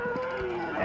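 Cow in Conker's Bad Fur Day giving a short, loud moo that fills the brief moment, with game sounds under it and no talk.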